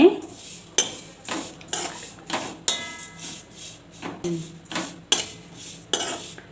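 Shrimp shells are roasted in a pan with a metal spatula, producing a steady rhythm of sharp clinks and scrapes against the pan about every three-quarters of a second, with little sizzle underneath.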